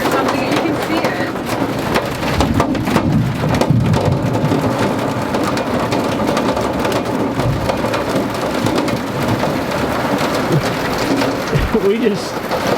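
Heavy rain and hail drum hard and continuously on a campsite during a storm, a dense, loud patter with occasional low rumbles, and voices faintly audible beneath the downpour.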